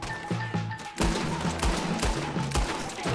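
Gunshots in Red Dead Redemption, several sharp loud cracks spaced about half a second apart over a rumbling game background, with faint low tones in the mix.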